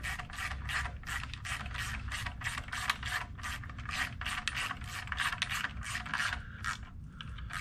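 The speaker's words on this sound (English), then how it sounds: "take your wrench, and I want you to snug that middle one up" Wrench ratcheting as it snugs a bolt on a Cobra crank support, a rapid series of close, crisp clicking strokes repeating steadily throughout, alone with no voices.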